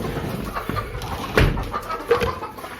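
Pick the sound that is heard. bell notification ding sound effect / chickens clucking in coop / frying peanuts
chickens clucking in coop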